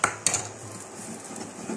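A spoon stirs oat porridge with added sugar in a pot: two quick metallic clinks up front, then soft, close scraping and swishing.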